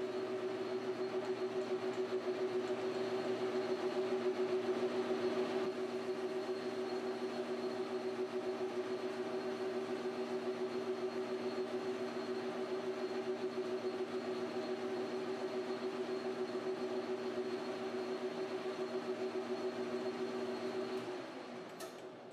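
A Precision Matthews 1236-T lathe facing a 304 stainless steel round bar at 500 RPM gives a steady, close, humming drone with a constant tone that runs unbroken for over twenty seconds before easing off at the end.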